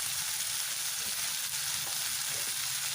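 Tomatoes with rock salt fry in a pan, giving a steady, dense sizzle throughout with a few faint stirring touches.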